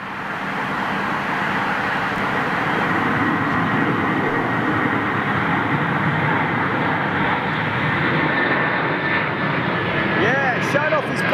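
A jet airliner climbs out from Heathrow with its undercarriage retracting. Its engines give a steady, loud, broad roar throughout, with a faint rising whine near the end.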